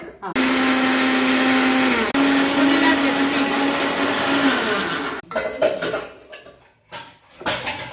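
A kitchen mixer grinder runs at a steady, loud whine while blending bitter gourd, raw mango and boiled sweet potato, then cuts off and gives way to clattering and some talk.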